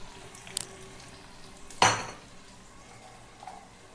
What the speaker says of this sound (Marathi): तर आपला कांदा चांगला परतून झालेला आहे